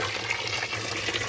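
Water pouring into a 250-litre drinking tank for chicks, a steady gushing fill heard close and continuous over a low hum.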